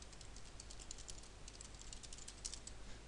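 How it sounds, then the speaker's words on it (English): Quiet, rapid clicking of a computer keyboard as a web address is typed, an uneven patter of keystrokes over a hissy background. "I'm gonna type it actually for you to see."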